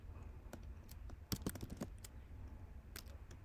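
Quiet typing of Python code on a computer keyboard, with sparse irregular key clicks and a short flurry of sharper taps near the middle, soft and close against a low hum, with no talk.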